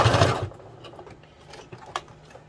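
A sewing machine runs a quick stitch in a short burst, followed by faint mechanical clicks and ticks as the needle mechanism settles.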